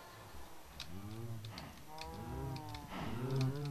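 Cows mooing in the video game SurvivalCraft: several drawn-out, close moos follow one another in quick succession, fairly quiet, with no talk over them.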